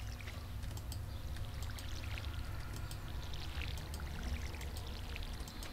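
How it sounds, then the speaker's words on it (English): Watering crops with a watering can in the Stardew Valley farming game, a steady pouring splash that runs continuously under light game ambience, with no talk. "ma'am, you need to water your plants"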